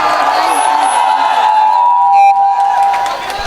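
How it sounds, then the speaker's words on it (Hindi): An audience at a stage show in Bihar cheers and whoops in a steady, loud crowd roar that lasts throughout, with some applause under it. "चारों तरफ से एक बार बिहार की बेटी के लिए जोरदार ताली हो जाए"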